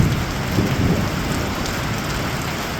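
Steady rain falls outdoors near a home garage during car work, a dense broadband hiss with heavier low rumbling early on, continuous and fairly loud with no voices.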